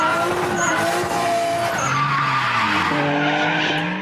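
A drift competition car slides with tires squealing loudly, long wavering screeches rising and falling over a roaring engine, close and continuous, with no voices.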